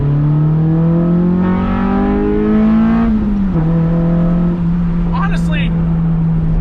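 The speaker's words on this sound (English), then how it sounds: "I don't know if I'd even like this car as much if it didn't make all these VTEC noises" A Honda del Sol engine revs up through VTEC, a loud, steady rising drone that holds high, dips briefly near the midpoint, then settles and sustains close to the listener.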